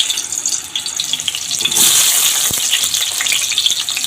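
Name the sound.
potatoes frying in hot oil in a wok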